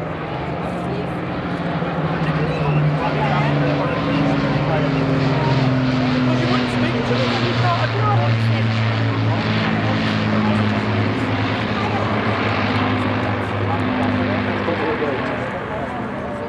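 An Avro Lancaster bomber of the Battle of Britain Memorial Flight flies at the Sunderland air show, a loud, steady drone of multiple piston engines and propellers throughout, heard under continuous commentary.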